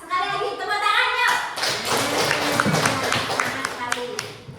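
A classroom of children claps hands together in a steady burst of applause, with a teacher's voice speaking briefly before the clapping starts and children's voices mixed in.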